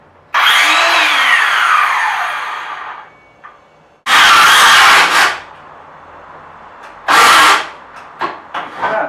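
A Ryobi power tool cuts while roof bows for a camper truck are being built. It runs in three loud bursts: a long first run whose pitch sags as it strains, then two shorter bursts. There is no speech.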